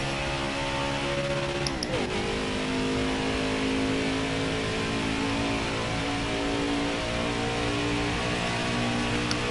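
A racing truck's engine in NASCAR Heat 5 revs steadily on a lap at Atlanta, with a loud, continuous harmonic drone that dips briefly in pitch around a gear change and then holds high.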